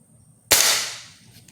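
A Wildcat air rifle shot strikes a 1x4 pine board in a single loud, sharp crack that rings out and fades over about a second, with nothing else around it.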